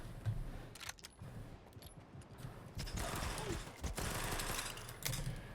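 Rapid bursts of SMG fire in the shooter game Stalker 2 crackle in several quick volleys separated by short pauses, loud and close, with mechanical clicks in between.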